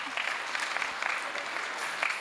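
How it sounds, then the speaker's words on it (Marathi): Audience applause at a Marathi devotional stage event, a brief burst of steady clapping from a seated crowd, filling the short moment evenly without speech over it. "सगळ्यांनी एकदा जोरदार टाळी वाजवा"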